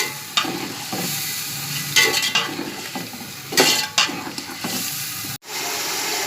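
Peas and potatoes are stir-fried in a pot for vegetable pulao: a spoon scrapes and clatters against the metal in irregular strokes over a constant close sizzle.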